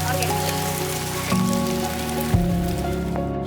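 Heavy rain pours steadily on surfaces at a mountain camp in the Philippine terraces, a dense continuous hiss with a low hum and a couple of brief knocks, no one speaking.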